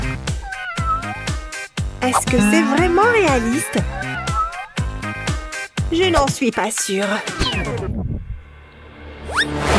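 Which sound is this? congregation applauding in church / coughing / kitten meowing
kitten meowing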